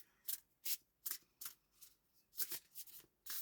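Oracle cards are shuffled in quick, crisp bursts of riffling, close and fairly quiet, with short pauses between about a dozen flutters and no talking.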